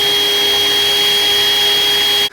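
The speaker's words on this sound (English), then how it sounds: "pre-drilling" A power drill pre-drills holes inside a shipping container workshop, a loud, steady high-pitched motor whine held without a break for about two seconds before stopping abruptly.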